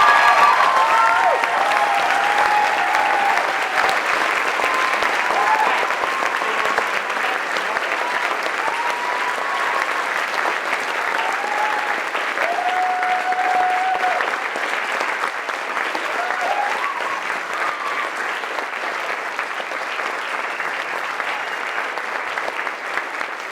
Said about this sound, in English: So I'd like you to join me in applauding and thanking for their effort, Johanna McDavid and Daniel Wilson.